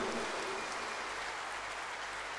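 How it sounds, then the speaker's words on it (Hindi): Audience applause at a spiritual gathering fills the space as steady, dense clapping from a large crowd, even and continuous with no voices over it. "ये तालियां तो उस महान आत्मा के लिए होती हैं जो अपने देश का नाम पूरी दुनिया में रोशन कर जाते हैं।"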